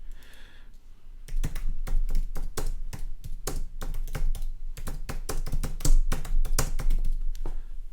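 Rapid, uneven clatter of keys on a computer keyboard as a post is typed, close and steady, with a brief quiet pause before the tapping begins and carries on to the end.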